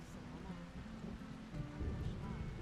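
Rain falls steadily in a thunderstorm in the tavern-management video game Tavern Master, a soft, continuous hiss with low rumbling swelling slightly toward the end, faint and without talk.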